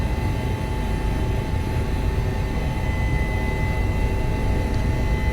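An Airbus H145 helicopter flying high above the Alps between Chamonix and the Aosta Valley, with a steady loud rotor and engine drone throughout and a faint tonal whine on top.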